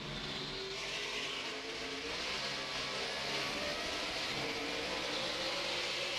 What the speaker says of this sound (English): Watch Jimmy as the pace car pulls away and see how he gets through traffic here on the restart.